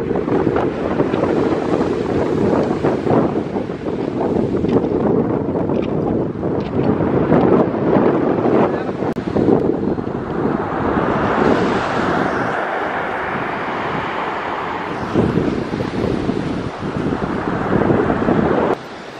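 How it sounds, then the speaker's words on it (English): Strong wind and breaking sea waves at the seaside village of Charmouth at high tide near sunset, a loud continuous roar of surf with gusting wind buffeting the microphone, surges swelling and easing throughout, with no voices. "This is the sea village of Charmouth at high tide on a windy, windy day near sunset."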